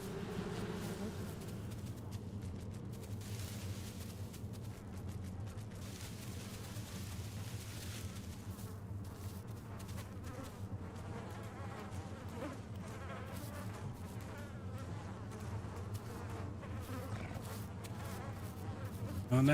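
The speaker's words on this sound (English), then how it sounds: "I hear a hive somewhere this way." Bees from a hive in a survival dinosaur video game drone in a steady, low buzz for the whole stretch, fairly faint and constant with no talk.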